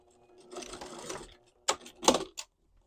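A sewing machine stitches skirt seams, running in a steady mechanical whir for about a second, then stopping and restarting in short clattering bursts close to the mic, with no talk.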